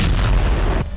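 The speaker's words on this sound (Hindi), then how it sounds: "वोरोनिश के साथ यूक्रेनी फोर्स ने रूस के 5 राज्यों को बारूदी विस्फोट कर दहला दिया।" A loud, booming blast from a Ukrainian strike on a Russian weapons depot in Voronezh fills the moment with dense rumbling roar, then cuts off abruptly near the end.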